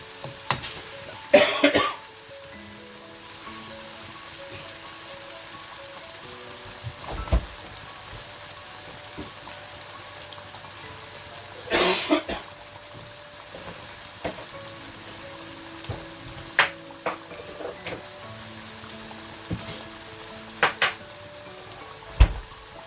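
Chicken bhuna cooking in a pan, a quiet steady sizzle running underneath, interrupted by several loud bursts and sharp clatters of the pan and utensils spaced through the stretch, no voices.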